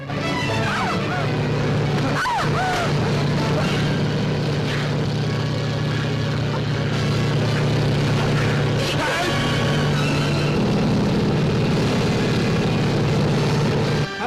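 A helicopter flying overhead, a steady heavy engine drone with a low rotor hum that runs without a break, loud and close, with muffled background noise mixed in.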